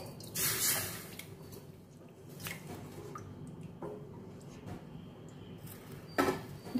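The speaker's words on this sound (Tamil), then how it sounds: "கொஞ்சம் தண்ணி ஆட் பண்ணிக்கலாங்க" Water being poured into egg gravy while it cooks, heard as a few faint splashes and drips in a quiet kitchen, with brief sharper spurts near the start and the end.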